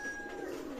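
Pigeons of the Pakistani Teddy breed cooing softly in a loft, a faint, low murmur under steady background hum.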